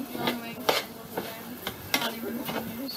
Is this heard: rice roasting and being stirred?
yes